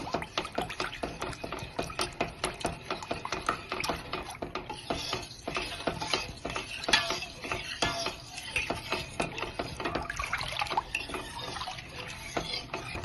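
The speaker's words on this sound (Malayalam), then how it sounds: "നന്നായിട്ട് മിക്സ് ചെയ്ത് കൊടുക്കണം." Carrot payasam with condensed milk being stirred in a pot, a steady rhythm of scraping and liquid sloshing strokes at moderate volume, with light clinks from the pot and no talking.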